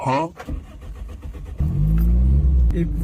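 A car engine cranks and catches, then runs with a steady loud rumble as it revs, with people talking over the start.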